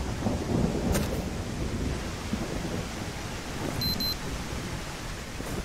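Thunder rumbles in the Green Hell rainforest, a low broad roll with a sharp crack near the start, steady rain hiss running underneath throughout, and a faint high electronic tone briefly near the end.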